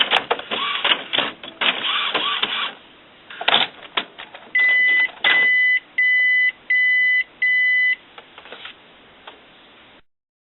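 An Epson WorkForce inkjet printer checks its ink cartridges, giving a series of mechanical clicks and whirs followed by four evenly spaced beeps in a row, with brief talk early on.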